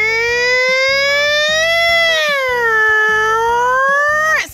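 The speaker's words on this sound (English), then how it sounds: "here's where the siren is so people know that a fire truck is on the way" A toy fire truck siren sounds loud and close with a steady electronic wail that rises and falls in pitch while a rapid pulsing beat runs beneath it, then cuts off abruptly at the end.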